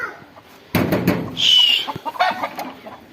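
Chickens in a Punjab village farmyard cluck and squawk nearby in a rapid, agitated burst, with one sharper high call in the middle and scattered quieter clucks after.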